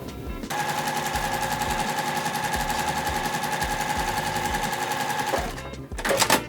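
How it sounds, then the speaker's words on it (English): A sewing machine stitches quilt rows together into a block, running in a fast, steady, loud mechanical rattle before stopping near the end, followed by brief handling noise. "Now I'm gonna take those 3 rows and sew them together into our final block here."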